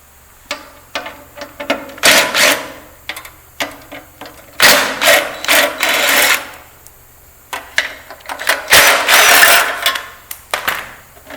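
Motor cover screws are removed with an M4 hex driver during a gear and motor change, giving close, loud bursts of buzzing driver whir in short, uneven spurts over light handling noise.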